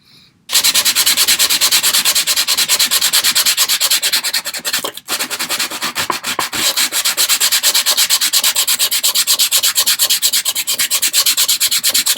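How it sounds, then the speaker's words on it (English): Sandpaper rubbed rapidly by hand over small wooden parts of a 1/6 scale miniature sofa, a loud, close, continuous rhythmic scratching of fast back-and-forth strokes with one brief pause midway. "Don't sand in your bedroom."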